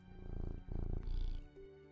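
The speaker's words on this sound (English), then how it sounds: "Yeah, see that purr sound?" A cat purrs in the video game Teddy's Haven, a low rumbling purr in three pulsing bursts, close and soft, followed by a brief faint chime.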